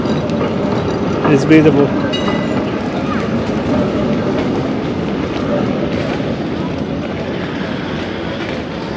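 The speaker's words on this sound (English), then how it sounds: "This is the classic tram of Den Haag." A classic Den Haag tram rumbles past a busy local street market, a steady low rolling roar with a brief louder clatter near the start, while voices talk over it.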